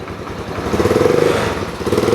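A Kymco scooter engine with a K pipe exhaust fitted with a baffle, running steadily close by with a muffled, throbbing drone that swells slightly midway.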